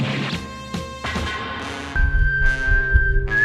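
A shrill, sustained whistle rises over a loud, busy mix of crashes and thuds, holding steady for a couple of seconds.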